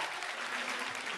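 A crowd at an anti-bullying event in Hamilton Park, St. Louis, claps steadily. The dense, even applause is fairly quiet and continues unbroken through the short burst.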